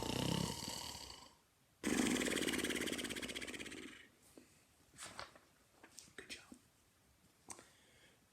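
A storyteller imitates a bear's snoring with two long, loud, raspy snores, followed by quieter breathy sounds and soft shuffling.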